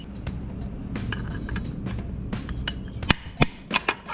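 Steel hammer blows land on the chassis of a 1958 GMC Apache that is being fitted with a Camaro subframe. Three or four sharp, separate metallic strikes come late in the clip over a steady low background noise, with no talk.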